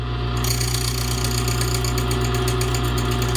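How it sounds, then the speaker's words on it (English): A key cutting machine grinds a space and depth key, making a loud, steady motorized whine and buzz with a rapid rhythmic chatter from the cutter throughout, no voices present. "So now we have cut a 1 cut all the way across for each appropriate space on the key."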